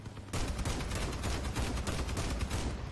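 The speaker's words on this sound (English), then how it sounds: "Autocannon's just devastating." A 20mm autocannon fires in the vehicle combat game Crossout, a loud sustained burst of rapid, evenly spaced shots that starts abruptly and continues without pause for about three seconds.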